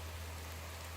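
Rain falls in the Skyrim video game, a steady, even hiss of drops on surfaces with no voices over it.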